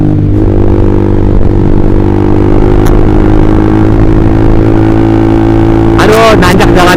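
A Honda CBR150R motorcycle engine drones steadily and loud while pulling uphill on a mountain touring road, with a sustained rumble, wind and rattling throughout, and a brief gear-change flutter near the end.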